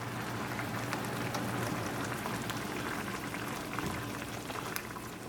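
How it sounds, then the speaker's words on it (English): Water boiling in a cooking pot for kidney bean rice pilaf, a dense, steady bubbling hiss that stays loud and even throughout with no talking. "The water started to boil."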